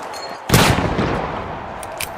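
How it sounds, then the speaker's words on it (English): A flashbang grenade in the video game The Finals detonates with a single sharp, loud blast. A hissing, ringing tail fades after it. "Flashbang out."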